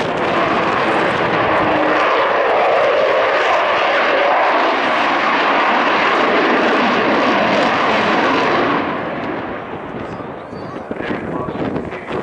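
An Avro Vulcan jet bomber with Rolls-Royce Olympus engines flies past at the RIAT 2012 airshow, a loud, sustained broadband engine roar that fades slightly toward the end, with wind buffeting the microphone.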